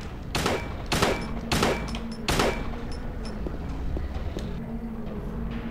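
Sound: gunshots in the video game Silent Hill 2

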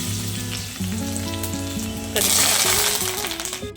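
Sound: garlic sizzling in hot oil for dal tempering

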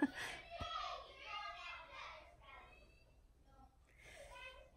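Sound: children yelling in the background

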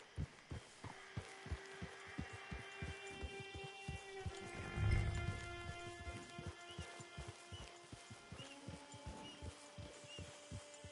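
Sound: horse in Red Dead Redemption 2 Online, video game

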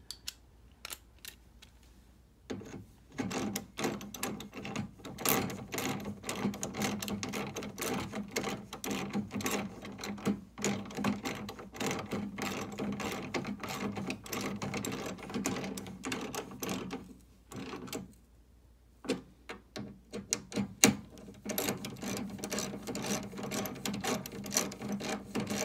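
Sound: socket wrench with extension cranking down bolts on Honda snowblower

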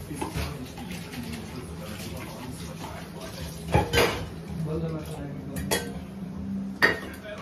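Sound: washing dishes, pots and pans

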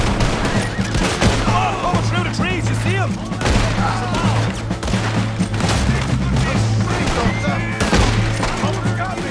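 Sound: gunfire in Red Dead Redemption 2 video game shootout

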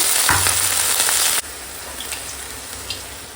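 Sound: chopped onion stalks and eggplant frying in a pan

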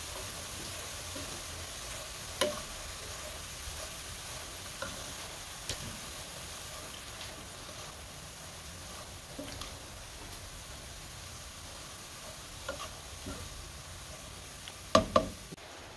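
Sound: stirring grated cabbage frying in a pan

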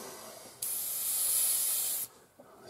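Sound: airbrush spraying paint on an Airfix Spitfire model

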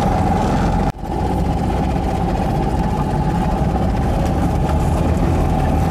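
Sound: Trojan 200 Heinkel Kabine bubble car engine running

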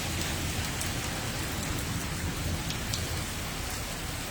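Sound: rain falling on road

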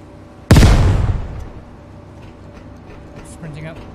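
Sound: grenade explosion in a video game (Tanker Terror Hunt)

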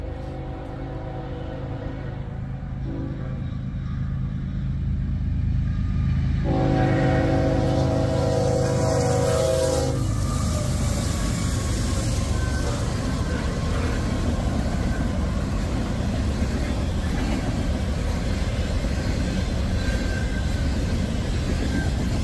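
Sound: eastbound freight train passing

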